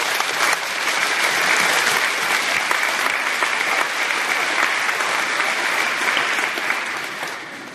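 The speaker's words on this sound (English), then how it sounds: "Let's give them a round of applause." A high school graduation crowd in Rosholt, South Dakota applauds departing teachers, a dense, continuous burst of clapping lasting nearly eight seconds, loud and steady before tapering slightly at the end.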